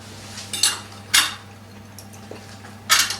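Cutlery scrapes and clinks against a plate as cabbage is served at a Burns Night meal, heard as three or four separate bright clatters spread across a few seconds over a low background hum, with no talking.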